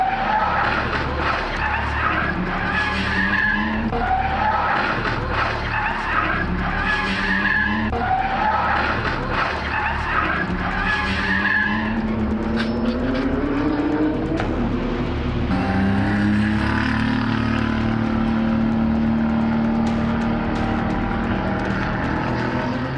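A race car driven by Ajith skids on ice during practice in Dubai, heard as a sustained loud engine roar with shifting tonal whine and skidding noise throughout, no voices.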